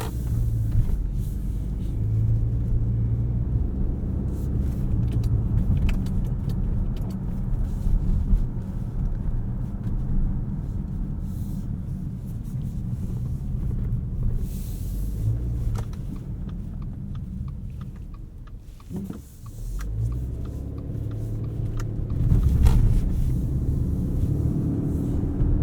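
A 2020 Subaru Ascent Touring three-row SUV cruising at night, heard from inside the cabin as a steady low road and engine rumble with a brief dip partway through, no talking.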